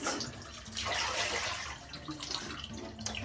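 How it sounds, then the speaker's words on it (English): Water runs steadily into a tub as it gets a quick rinse, a continuous close splashing and gushing that swells and eases slightly, with no one talking. "And then I give it a quick rinse."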